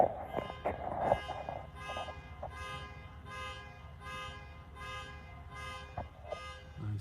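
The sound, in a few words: car alarm going off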